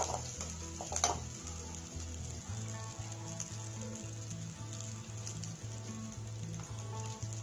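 Onions and urad dal fry in oil for beetroot poriyal, a steady soft sizzle with fine crackling and one brief louder clatter near the start, heard alone without voices.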